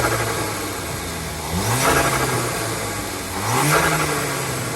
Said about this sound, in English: I'll try and put some revs up right now.